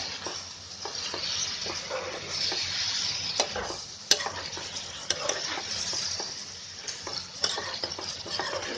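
Green chicken sizzles as it is stirred in a hot pan, a continuous frying hiss punctuated by scraping spoon clicks against the metal, close and steady with no talk.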